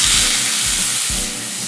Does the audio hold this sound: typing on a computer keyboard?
no